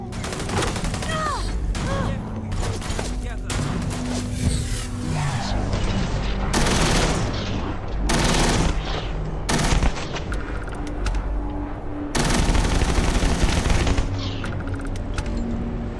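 Sustained bursts of rapid automatic gunfire with booming impacts from a firefight in the space game Starfield, loud and dense throughout, with occasional voices underneath.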